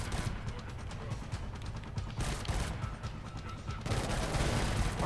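Dense, near-continuous gunfire from the video game Killzone Shadow Fall, loud and crashing throughout, with rapid overlapping shots and no clear pause.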